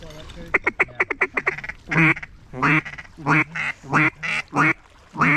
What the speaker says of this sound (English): there's so many birds flying around here right now